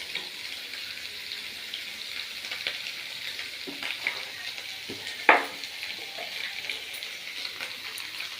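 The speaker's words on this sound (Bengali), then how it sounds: "নুন দিয়ে দিয়েছি, নুন দিয়ে একটু নাড়িয়ে নিই।" Potatoes stirred with salt in a frying pan, a soft continuous sizzle with occasional scraping and clinks of a spoon, one sharper knock near the middle.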